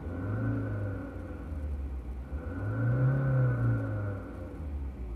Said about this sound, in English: Okay, I will rev the car.